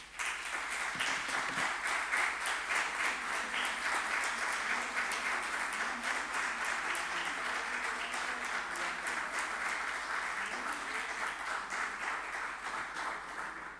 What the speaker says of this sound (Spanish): Bueno, José Miguel, los aplausos son elocuentes